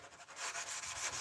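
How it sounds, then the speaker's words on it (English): Sandpaper worked by hand along the bevel of a forged blade, a close, steady abrasive rasping with short rhythmic strokes over a little more than a second. "I'm trying to keep the angle that I'm sanding at consistent with the angle of the bevel"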